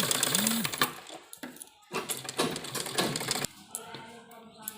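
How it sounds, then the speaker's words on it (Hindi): A sewing machine stitches piping onto a kurta in several close bursts of rapid mechanical chatter, broken by short pauses. "यहाँ पर हम मशीन से इसको पक्का कर देंगे पाइपिंग को बारीक बनाते हुए"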